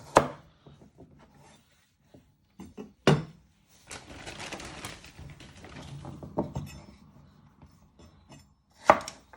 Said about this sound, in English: Once you have peeled all your carrots, you first want to chop them in half.